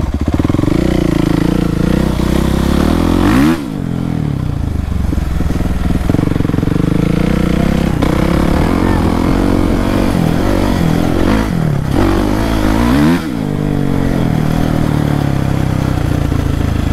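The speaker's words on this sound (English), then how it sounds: "We gotta teach Tony how to wheelie." A quad ATV engine riding on sand revs hard and continuously up close, with repeated throttle swells and sharp dips between gears over a constant loud engine roar.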